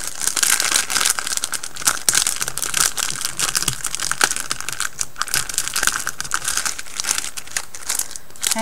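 Recycled paper wrapping is pulled open, making continuous close crinkling and crackling with bursts of rustling and crushing, and no one speaks.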